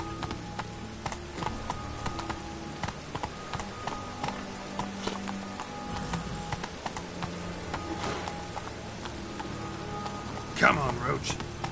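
Roach the horse trots with a steady clip-clop of hooves through falling rain in The Witcher, the hoofbeats close and even under constant rain patter, with a brief voice near the end.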